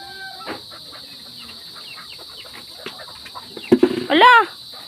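A hen clucks and squawks loudly near the end, after a stretch of quiet rustling and scattered faint sounds over a steady hum.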